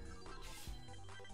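Telephone ringing in a short burst, a steady electronic ring filling the moment alone with no talk over it.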